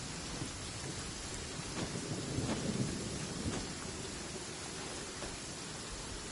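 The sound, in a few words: thunder and lightning strike in Genshin Impact video game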